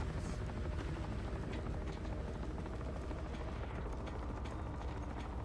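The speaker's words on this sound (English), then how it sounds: "I hear a helicopter." A helicopter in The Forever Winter video game thrums with a continuous rapid rotor chop mixed with mechanical clatter, steady and loud throughout.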